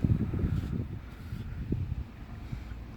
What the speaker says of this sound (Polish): Tutaj wiatr wieje